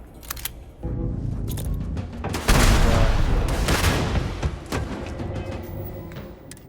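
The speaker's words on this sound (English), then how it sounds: "Just chucking grenades over and over again." Repeated grenade blasts and gunfire in a Starfield firefight, loud bursts rumbling one after another with a big sustained explosion in the middle, mixed with scattered shots and effects.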